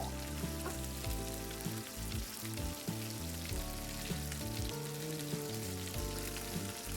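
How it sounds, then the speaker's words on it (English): Steady, crackling sizzle of chicken thighs and drumsticks browning in hot oil in a pot, continuous and close, with no voices. "That is a good sizzle."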